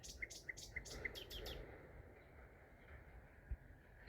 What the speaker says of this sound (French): la fauvette à tête noire et le rossignol Philomène